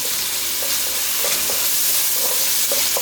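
Caribbean green seasoning stirred into chicken curry frying in a pot, a loud, dense, close sizzle with soft periodic scrapes and knocks of a spoon moving through, steady and without speech.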